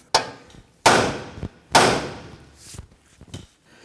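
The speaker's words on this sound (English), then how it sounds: "Now I'm going to go ahead and strike the knuckle here. That should go ahead and release the outer tie rod end." A hammer strikes the steering knuckle of a 2017-2020 Hyundai Elantra to release the outer tie rod end. Three sharp metallic blows land close and loud about a second apart, followed by a few lighter knocks.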